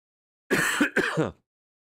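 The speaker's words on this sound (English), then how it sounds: "I still got this lingering cough, though." Two short, harsh coughs close up, one right after the other, then silence.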